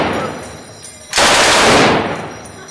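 A full-auto machine gun fires a single long, loud burst at a Las Vegas shooting range, a dense roar lasting under a second before fading.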